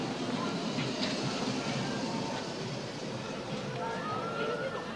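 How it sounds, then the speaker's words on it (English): A rail vehicle rumbles along steadily with faint squeals and clatter, a continuous mid-distance rolling noise without talk. "the tram"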